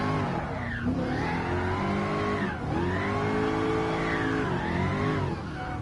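A car drifting around the Tsukuba circuit in the racing video game GT Sport, its engine revving loud and close in rising and falling sweeps with brief dips between throttle bursts, no talk.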